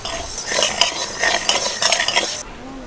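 Dry spices including fenugreek stirred with a spoon in a dry pan over low to medium heat for a green chilli pickle, giving steady scraping and rattling strokes for over two seconds before stopping abruptly.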